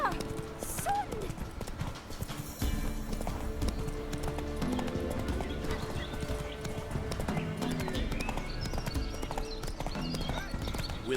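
Hooves clip-clop in a quick, steady galloping rhythm from the horse Roach in the video game The Witcher 3: Wild Hunt, with an occasional whinny and faint voices and background game sounds underneath.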